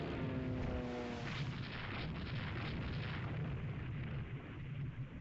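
Naval gunfire from the warship game Rule the Waves 3 as ships shoot at a destroyer: a rolling, rumbling barrage of booms that never lets up, fairly faint and muffled, with a few tonal lines at the start.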